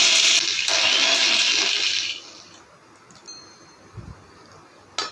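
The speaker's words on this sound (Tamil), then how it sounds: "அதை மிக்சி ஜாரில் போட்டுட்டு நல்லா ஃபைன் பவுடரை அரைச்சிட்டு வந்துடலாம்" A mixer grinder jar grinding roasted gram into fine powder, a loud steady whir for about two seconds before cutting off, followed by quieter rattling and a brief clunk.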